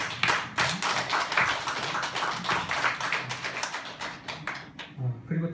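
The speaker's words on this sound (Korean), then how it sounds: "박수 한번 쳐주십시오." A church congregation claps together in a dense, lively burst of applause that fills the room and fades out near the end.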